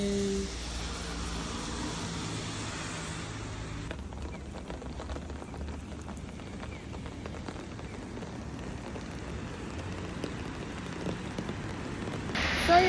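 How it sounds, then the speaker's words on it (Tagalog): Rain falls steadily outdoors in Japan, a soft continuous patter heard at moderate distance with no voices, ending in a brief louder burst of handling noise. "Naulan. Nako, bakit naulan?"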